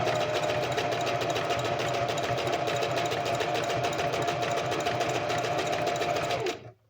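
A sewing machine stitches fabric while sewing underwear, a fast, even mechanical whirring rattle running steadily for several seconds at close range before stopping abruptly.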